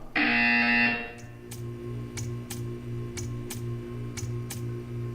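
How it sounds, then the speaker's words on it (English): A video game buzzer blares once, loud and sustained for about a second, then gives way to a steady low hum with a regular ticking that repeats through the rest of the clip. "When you hear the buzzer,"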